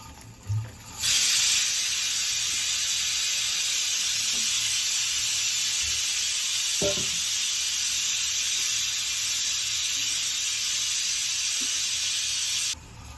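A steady, loud hiss of rasam boiling and frothing in a pot continues throughout, with a couple of faint clinks underneath.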